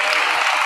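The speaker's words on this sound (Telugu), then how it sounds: "గట్టిగా గట్టిగా చప్పట్లు కొడుతూ ఆయన మహిమ పరుద్దాం" A church congregation claps loudly and steadily in praise during a sermon, a dense uninterrupted wash of many hands.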